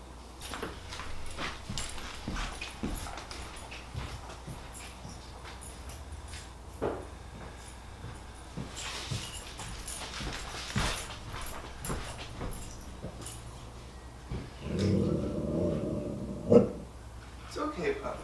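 Mabel, a puppy, gives soft intermittent whimpers and yips close by, with a few sharper cries near the end. A person talks gently over and between the sounds.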